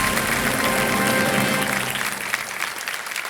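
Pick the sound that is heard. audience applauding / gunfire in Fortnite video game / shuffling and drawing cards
audience applauding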